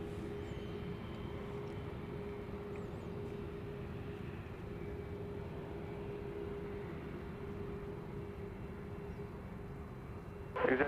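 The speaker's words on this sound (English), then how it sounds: "It's an Embraer Praetor 500. Just about to land here on" Embraer Praetor 500 business jet on approach to land on runway 31 right at Dallas Love Field, a steady broad engine roar holding at an even level throughout, with a brief louder burst at the very end.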